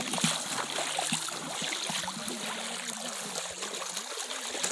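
A river flows steadily nearby, making a constant trickling rush with small splashes throughout, at a moderate level with no pauses.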